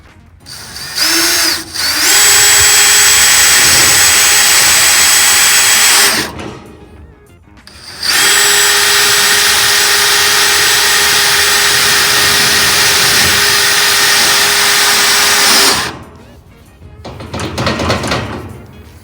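A power drill drives self-tapping screws into a grill grate, with two long, loud high-pitched whirring runs separated by a short pause, then a brief quieter burst at the end.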